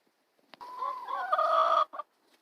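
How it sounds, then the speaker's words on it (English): A hen clucks in a short burst of rising, nasal, trumpet-like calls followed by a brief final cluck, close and clear against a quiet background. "They'll start kind of clucking."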